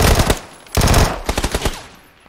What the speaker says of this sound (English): Well, I'm going to shoot him.